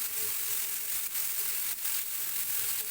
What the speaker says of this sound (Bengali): একদম লো আঁচে 15 থেকে 16 মিনিটের মতন সাসলিকগুলো ভেজে নিতে হবে